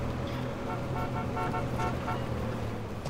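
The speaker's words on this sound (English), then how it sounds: "I wanna honk." A car horn honks in a driving video game, short toots sounding over steady engine and traffic noise.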